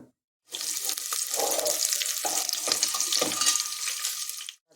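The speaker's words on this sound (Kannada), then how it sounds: "ಶುಂಠಿ ಮತ್ತು ಬೆಳ್ಳುಳ್ಳಿ ಈ ಹೆಚ್ಚಿರೋ ಈರುಳ್ಳಿ ಹಸಿಮೆಣಸಿನ್ಕಾಯಿ ಇಷ್ಟನ್ನು ಹಾಕ್ಕೊಂಡು ಸ್ವಲ್ಪ ಹುರಿಯೋಣ" Ginger, garlic, chopped onion and green chili dropped into hot oil for pulao, a sudden loud steady sizzle that starts after a brief silence, lasts about four seconds and then cuts off.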